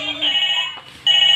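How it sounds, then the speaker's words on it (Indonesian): Toy mobile phone playing a loud electronic ringtone of steady high beeping tones, close by, breaking off briefly and then resuming. "Kita bunyiin teleponnya ya"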